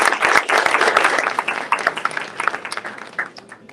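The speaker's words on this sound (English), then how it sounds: "Just give her a round of applause." Audience applause at a university announcement event, sustained dense clapping from a crowd that gradually thins toward the end, with no talking over it.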